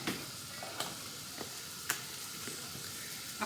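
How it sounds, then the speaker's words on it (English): Food sautéing in a pan over medium-high heat with salt and pepper added, a soft steady sizzle under occasional faint clicks and scrapes of stirring, fairly quiet and close. "we're just going to saute this for 4 to 5 minutes on medium-high heat"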